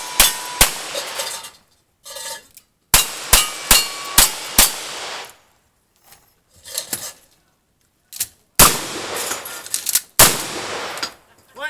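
Marlin lever-action rifle firing at a cowboy action shooting match, with sharp, loud shots in quick bursts and pauses between, each crack followed by metallic clangs and ringing from struck steel targets.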